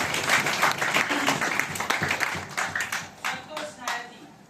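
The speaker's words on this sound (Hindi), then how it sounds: "जोरदार ताली आपने ली" An audience at a network marketing seminar bursts into loud applause, a busy crackle of many hands that thins into scattered claps toward the end, with voices mixed in.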